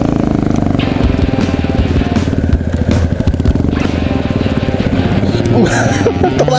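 A motocross dirt bike idling and revving in a forest on a dead-end trail, its engine loud and close with a steady throbbing rumble and some rattling, while people talk over it.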